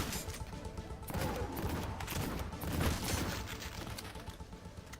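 Shotgun blasts in the retro shooter Cultic, several sharp bursts in quick succession over a busy, noisy background of combat, moderately loud with no voices.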